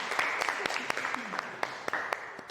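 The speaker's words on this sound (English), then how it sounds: "let's give a big round of applause for the students who presented really well, but you guys already did that" Scattered clapping from an audience applauding high school students who presented a wildfire simulator, a sparse run of separate claps at moderate distance with a low murmur of voices underneath.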